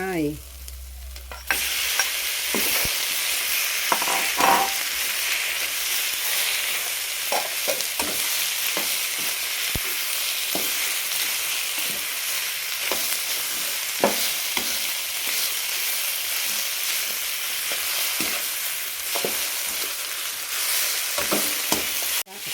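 Pork stir-fried in a hot pan for a Thai khanom jeen nam ngiao dish, a steady close sizzle with repeated scraping and stirring knocks throughout.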